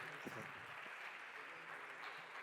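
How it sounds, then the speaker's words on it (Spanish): A school-education presentation audience applauds to welcome a speaker, a soft, even patter of many hands heard faint and distant, with a brief voice near the start. "Un fuerte aplauso."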